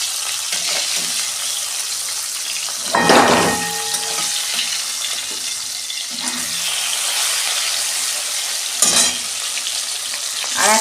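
Pabda fish frying in oil in a pan, a constant close sizzle broken by a few louder bursts of spatter and clatter, with no talking.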